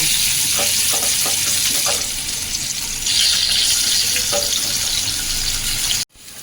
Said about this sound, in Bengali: আমার তেলটা গরম হয়ে গেছে এবার আমি করলাগুলো একটু হালকা ভেজে নেব